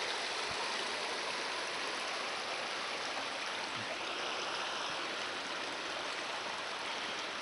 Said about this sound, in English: Creek's right down in here.